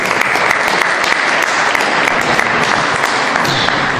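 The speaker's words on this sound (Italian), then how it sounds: "facciamo subito un applauso" An audience inside Santa Chiara church in Lecce breaks into loud, sustained applause, a thick continuous roar of many hands clapping at close range with no talk over it.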